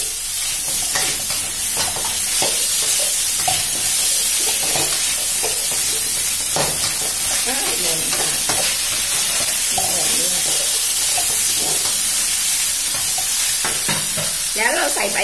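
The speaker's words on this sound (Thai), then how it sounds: "ผัดเลยนะคะแล้วก็ใส่ใบมะกรูดค่ะ" Fish balls stir-fried dry in a hot wok with kaffir lime leaves and spicy curry seasoning, a loud steady sizzle with repeated scraping strokes of a spatula throughout.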